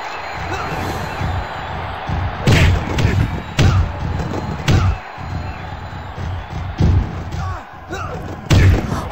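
A wrestler is thrown and slams onto the ring at a live wrestling show: several heavy, booming thuds rise above continuous crowd noise and commentary, roughly one impact every second or two.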